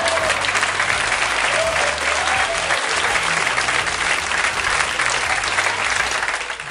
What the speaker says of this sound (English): Big round of applause for that one.